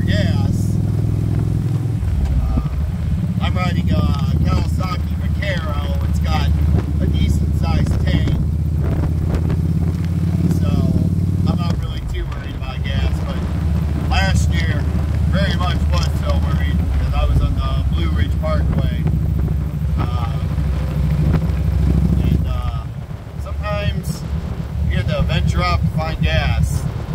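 A Kawasaki Vaquero motorcycle rumbles along a windy road, its engine droning low and steady beneath heavy wind buffeting, while someone talks over the ride.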